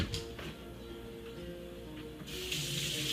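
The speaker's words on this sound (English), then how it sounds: "I'm going to rinse that off some more." Food is rinsed under a running kitchen tap, a soft continuous hiss of water that swells louder near the end, quiet and close with no talking.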